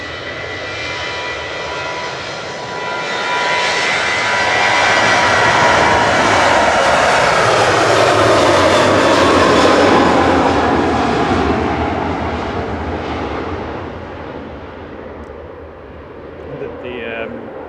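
A jet airliner departing Manchester Airport for Gdansk as flight 4094 roars past, its engine noise building, peaking loudly mid-clip, then fading away, with speech over it.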